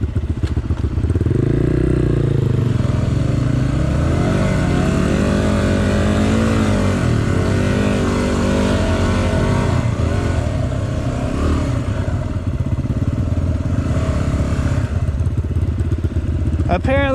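An off-road vehicle on a muddy ride revs hard and continuously, its rear tire spinning in the mud, the engine roaring loud and close with rising and falling pitch while voices talk over it.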